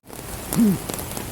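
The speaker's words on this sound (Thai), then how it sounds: "ฝนก็ตก" Rain falls steadily at an outdoor flea market in Mueang Phon, Thailand, a continuous close hiss of drops with a brief tonal sound rising briefly in the middle.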